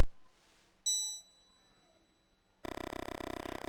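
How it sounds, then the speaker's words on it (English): A bell dings twice in the retro video game Mothmen 1966, each a short clear chime with a fading ring, followed by a loud buzzing synthetic tone. "Suddenly, the bell rings and you feel an invisible force trying to drag you into the present."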